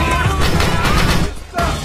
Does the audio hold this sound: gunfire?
yes